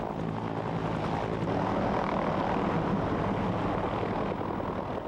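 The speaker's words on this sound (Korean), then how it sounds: "세계 12개국에서 운영되고 있는 코브라 헬기는 국내선 육군 항공작전사령부 소속으로 육군 조종사에 의해 운항된다." An AH-1 Cobra attack helicopter with a narrow fuselage and tandem two-pilot cockpit, flown by army aviation, roars steadily with continuous loud rotor and engine noise, close and unbroken.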